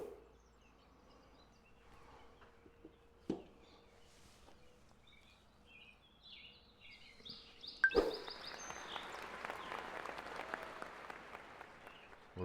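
Crowd applause in the golf video game Awesome Golf rises suddenly after a quiet stretch and keeps going as a steady, fairly close clatter of clapping until the end.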